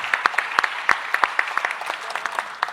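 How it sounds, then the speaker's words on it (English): Audience clapping at a startup demo day event, a brief burst of many hands clapping close by, steady and moderately loud with no talking. "Let's give them a round of applause."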